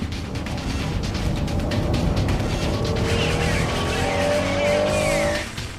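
Honda NSX-R race car entering a slippery second hairpin while overtaking a GTO, engine roaring steadily up close with a long tire squeal and skid rising near the end before the sound cuts off.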